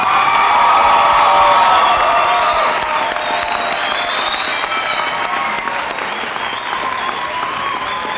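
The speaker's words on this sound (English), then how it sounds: "I think they deserve another round of applause myself." Sustained applause mixed with cheering and whoops from a large audience at an adult education GED commencement ceremony, loud and dense, easing slightly after a couple of seconds but continuing throughout.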